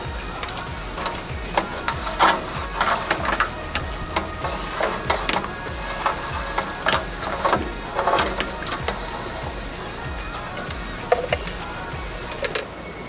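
An old, dead pump motor is pulled out of a waterfall fountain: a steady run of sharp clicks, knocks and plastic clatter from close handling, with no talk.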